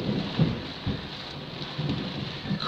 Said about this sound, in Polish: Leje jak cholera. I do tego jeszcze burza jest.